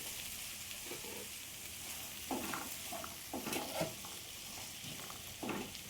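Raw green peas frying in a curry pan, a soft steady sizzle with a few scraping stirs of a spoon against the pan, quiet and close.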